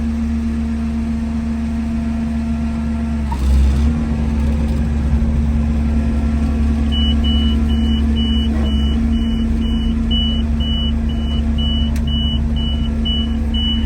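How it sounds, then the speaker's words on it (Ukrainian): A Claas Dominator 98S combine harvester's engine runs with a steady, loud low drone, a brief surge partway through, then a string of regular electronic warning beeps sounding over the engine noise. "Зараз відразу запущу машину."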